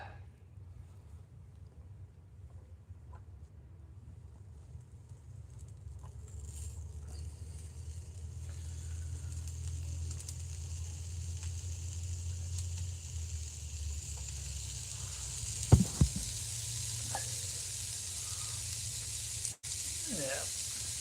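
Bacon strips sizzling on a non-stick grill, a steady broadband hiss of frying fat that grows slightly louder over time, broken by a couple of brief clicks and clatters near the end.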